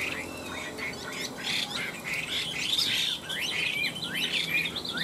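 A caged Chinese hwamei songbird sings a close, loud, continuous stream of varied whistles, trills and chirps, with rising and falling phrases repeating throughout.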